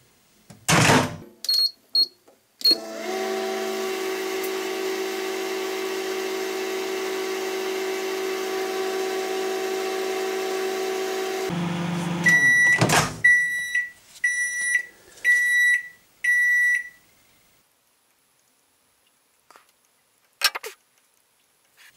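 A microwave oven heating a plate of chocolate hums steadily for about nine seconds after a door clunk, then stops with a clunk and a series of repeated electronic beeps.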